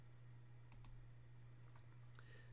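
A few soft, crisp computer mouse clicks come while working in Photoshop: a quick double click, then a single click, close and quiet over a steady electrical hum.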